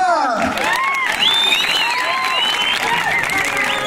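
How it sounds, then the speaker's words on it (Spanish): Cheering and applause for a couple at a slapping contest in Cacalotepec Mixe, Oaxaca, with crowd noise, excited voices and whistle-like shouts over steady clapping throughout. "¡El aplauso para la primer pareja!"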